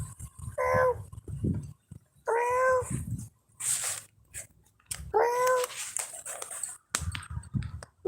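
A cat meows several times outdoors, short rising cries spaced apart, fairly close, with quiet background noise and clicks between the calls.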